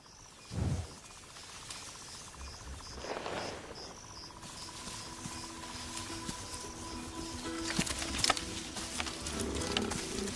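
Lions in the wild African bush, a deep roar rising out of a dense, steady chorus of crickets and insects, with a second rumbling call a few seconds later and scattered rustling and clicks toward the end.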